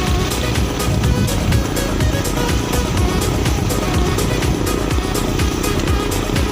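A motorbike rides along a mountain road near the Assam–Nagaland border. A steady, loud engine drone mixes with wind and road rumble, with faint ticking clatter running throughout.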